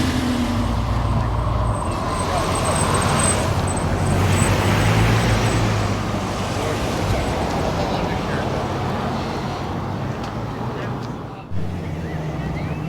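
A Puch military vehicle rolls past at a Southern California van meet, its engine and road noise forming a steady rumble that swells and then eases off as it passes, with voices in the background.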